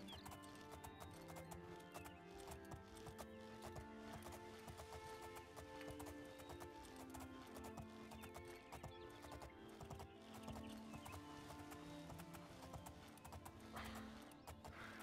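Horse hooves gallop steadily in the video game Oblivion, a continuous clip-clop rhythm set against a dense layer of game music and ambience with no pauses.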